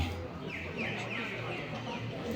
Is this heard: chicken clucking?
yes